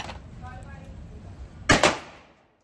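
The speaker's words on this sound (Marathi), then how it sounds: "फटाके वाजवले बघ" Two sharp, loud cracks burst out close together after a stretch of quiet background murmur, then fade into silence.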